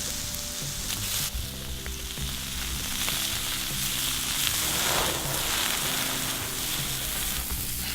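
Prawns sizzle steadily on a hot grill, a loud, close, continuous hiss and crackle that carries on unbroken with no voices over it.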